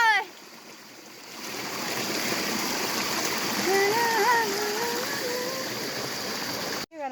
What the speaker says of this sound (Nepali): यो खोला तरेर जानुपर्ने रहेछ पानीको हेरेर